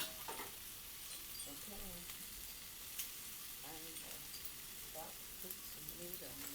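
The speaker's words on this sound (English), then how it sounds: "I'm about to put some meat on." Meat sizzling on a 36-inch Blackstone griddle for fajitas, a steady broadband crackle with sharper pops scattered throughout, while people talk nearby in the background.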